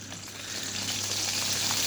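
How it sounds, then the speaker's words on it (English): Sausages sizzle steadily in a hot pan, a constant crackling hiss close up without pause. "Nice sizzling sausages"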